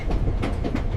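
A train rolls along the rails with a loud, steady rumble and rhythmic clickety-clack, heard close and continuous over a short stretch.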